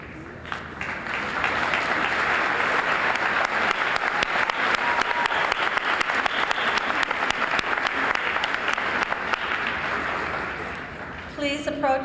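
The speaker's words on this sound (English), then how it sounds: "let's give them a round of applause." A college commencement crowd applauds for scholarship recipients with sustained, dense clapping across the hall. It builds after a brief start, holds steady, then thins near the end as a voice begins speaking.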